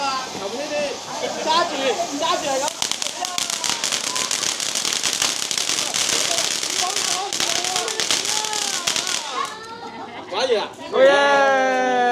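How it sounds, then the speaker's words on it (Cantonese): Dense crackling bursts of firecrackers and fireworks rattle on for several seconds, with people talking and shouting over them before the popping stops. "我哋而家咧放完煙花咧"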